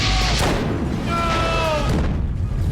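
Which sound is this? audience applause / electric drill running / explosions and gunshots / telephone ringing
explosions and gunshots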